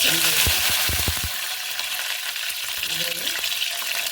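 Mustard seeds and cumin splutter in hot oil, a steady close sizzle with sharp popping bursts near the start and again later.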